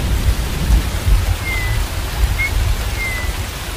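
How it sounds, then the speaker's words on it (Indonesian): Heavy rain pours at night in an animated cartoon, a loud, steady downpour with deep rumbling underneath and no voices. "Serem soalnya hujannya."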